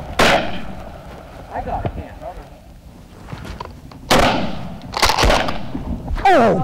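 Sharp shotgun blasts during a duck hunt, loud and close, several reports spaced across the clip with excited voices talking and cheering around them.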